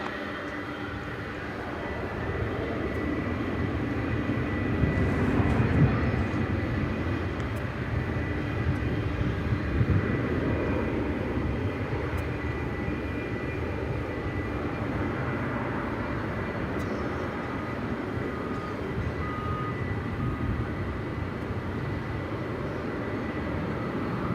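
An MD-11 jet aircraft at DFW airport rumbles with a sustained, loud engine roar that swells slightly around the middle and stays steady to the end, with no voices.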